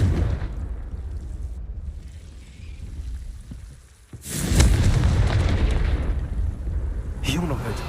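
The Confringo fire spell in the video game Hogwarts Legacy bursts into a loud, deep explosive boom midway, rolling into a rumbling roar over steady game ambience, with a voice speaking nearby.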